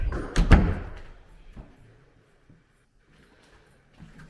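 A door bangs or thuds shut close by, followed by a couple of faint knocks and then near silence.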